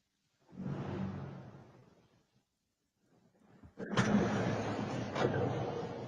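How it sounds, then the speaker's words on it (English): Truck passing by a house, picked up on a Ring doorbell camera: a faint rushing approach swells and fades, then after a brief lull a louder, rougher roar of the truck's engine and tires takes over and continues. "And right there's when the truck goes by."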